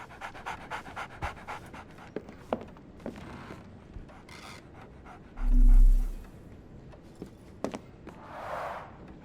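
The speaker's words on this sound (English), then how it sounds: "So, Barnes has a dog now." A dog panting in Sherlock Holmes: The Awakened, quick rhythmic breaths at close range running steadily throughout, with a single louder thump midway and faint shuffling in the background.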